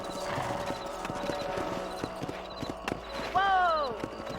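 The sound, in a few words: horse galloping in a video game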